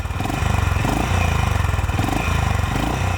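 Honda H'Ness CB350 motorcycle with a loud, deep exhaust thump, steady rhythmic pulsing throughout at close range, sounding like idling or light revving.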